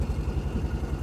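A salvaged junk side-by-side UTV engine running in gear, a close, steady low rumble with an even pulsing throb and light clatter.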